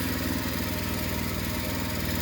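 Small engine running steadily at close range after being topped up with Castrol oil, a constant chugging drone with a fast, even pulse and no breaks or sputters yet.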